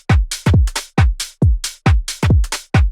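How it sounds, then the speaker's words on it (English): A punchy, swung UK garage drum pattern with tight kicks and crisp hats and snares, playing alone in a bouncy, shuffling groove. "For this track, the drums sound like this."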